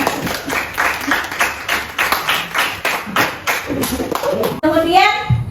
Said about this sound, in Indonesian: Kita beri aplaus kepada teman kita yang sudah menyampaikan hasil diskusinya ya